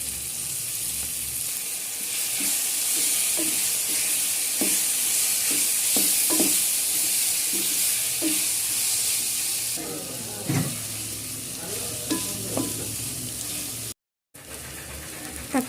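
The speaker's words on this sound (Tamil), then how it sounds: "தக்காளி நல்லா வதங்கிடுச்சு." Tomatoes sautéing with ginger garlic paste in a pan: a steady close sizzle with repeated spoon scrapes and stirring clatter, plus a brief stretch of running tap water.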